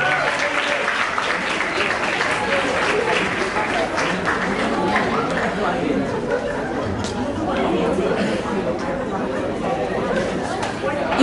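An audience at a school cultural event applauds a choreographer, with the clapping continuing steadily under loud crowd chatter and voices throughout.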